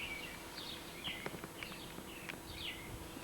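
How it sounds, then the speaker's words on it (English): Several birds chirp and whistle in bright repeated phrases over a quiet, steady outdoor hiss, fairly near and clear. "Listen to the birds."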